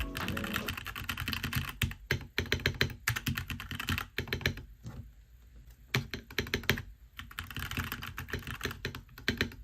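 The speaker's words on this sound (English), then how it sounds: "I did order the Gatoron Pro Red switches because I wanted to give it a try." Steady, fast typing on a NuPhy Halo65 mechanical keyboard fitted with Gateron Pro Red linear switches, dense clacky keystrokes running continuously, close and loud with a few short pauses, no talking.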